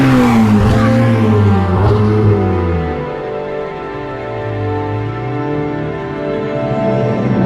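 A Ferrari 488 Pista accelerates with a loud, rising and falling engine howl up close, which fades to a lower, steadier drone midway through.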